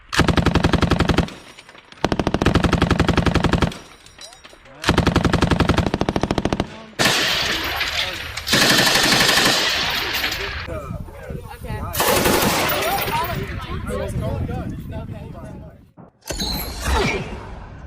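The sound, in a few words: Pecheneg PKP machine gun firing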